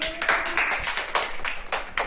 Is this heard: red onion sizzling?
no